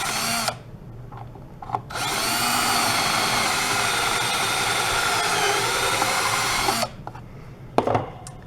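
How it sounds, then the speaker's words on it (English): A power drill whines loudly for about five seconds as it bores through wood for a guitar bolt hole, with short bursts of the motor before and after, no talking. "then we drill through the second hole"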